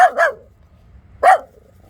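A Jack Russell terrier gives two sharp barks in quick succession, then a single bark about a second later, close and loud against a quiet background.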